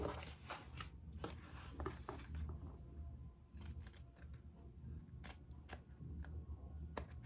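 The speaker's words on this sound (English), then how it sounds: "we're going to cut into both pieces" Scissors snip through fabric pieces of a small mini backpack, a series of sharp, close, irregular crisp cuts with quiet pauses between, no talking.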